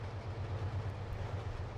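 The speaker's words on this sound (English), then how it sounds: "we have a train. Hello, Mr. Class 55 Deltic with old Muck. Ooh, that's a decently long train there." Class 55 Deltic locomotive hauling a long train past in Trainz Simulator 2, a steady low rumble and drone with faint wheel clatter, continuous and fairly close with no talking.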